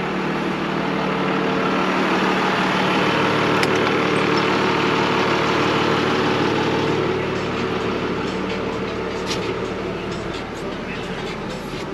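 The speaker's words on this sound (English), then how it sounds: "That is this tractor, the JCB Fastrac 3220." A JCB Fastrac 3220 tractor engine running steadily with a harrow folded up on it, a continuous droning hum with some higher whine toward the end, no talking.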